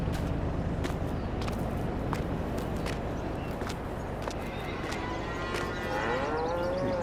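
Cows moo in Farming Simulator 22, one long low moo rising near the end over steady engine rumble and soft footsteps on a farm.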